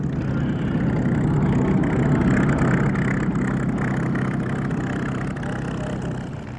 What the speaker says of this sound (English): This is the most original surviving 109 with the powerful Daimler-Benz engine.